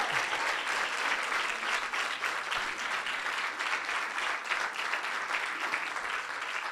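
Steady, dense applause from a sizable audience, with women among those clapping, at a talk or lecture; a continuous wash of many hands held at an even level throughout without pause.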